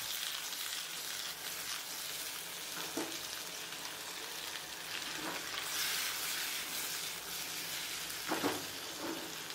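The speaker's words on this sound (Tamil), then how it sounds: "அதையும் உள்ள சேர்த்து நல்லா வதக்கி விட்டுக்கோங்க" Onions and tomatoes sautéing in a hot pan give a steady, close sizzle, with occasional scraping stirs of a spoon breaking through.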